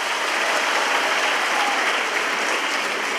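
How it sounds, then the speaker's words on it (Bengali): A school audience in a Quran distribution event claps loudly and steadily, a dense, continuous wash of applause filling the room with no voices on top. "সবাই একটু জোরে হাত তালি দিন।"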